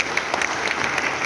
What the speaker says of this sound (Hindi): सबके लिए अपने एक बार जम के ताली बजा देते हैं